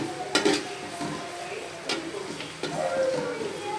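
Onions frying in pure mustard oil for beef biryani, a low steady sizzle broken by a few sharp scrapes and clanks of a spoon stirring in the pan, close by.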